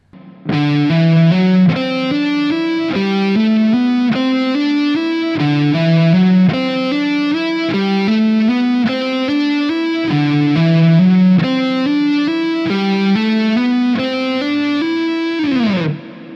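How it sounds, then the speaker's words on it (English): Distorted electric guitar plays a repeating pattern of quick slurred notes in steady phrases, ending with a pitch slide down; loud and up close, no voices. "We're only focusing on the hammer-ons."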